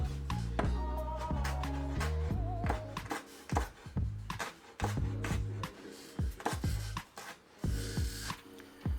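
A knife chops garlic and ginger finely on a board in a home kitchen, with a quick run of close, crisp strikes and rasping scrapes over steady background music.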